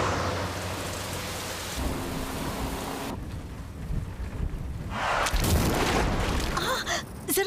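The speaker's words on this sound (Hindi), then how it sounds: "कितनी तेज बारिश है।" Heavy rain pouring steadily with loud rumbling thunder, a dense continuous roar of downpour that swells and shifts, with a strong thunder crash toward the end.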